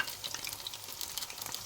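Flour batter for tortang dilis fries in a generous layer of oil, making a soft, even crackling sizzle with light bubbling that runs on alone and quite faint.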